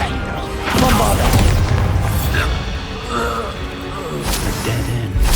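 Bombarda blasting spell explosions from the video game Hogwarts Legacy, with deep booming bursts and crashing impacts mixed into dense battle effects, a voice talking over the action.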